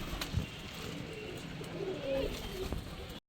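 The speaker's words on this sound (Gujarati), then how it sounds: "ઓલા બધા જો કબૂતર ચેણ પાણી ખાય છે ને" Pigeons at the Tapkeshwar Mahadev temple coo softly while pecking at scattered grain, low rounded calls rising now and then over a steady open-air background, with voices faintly present.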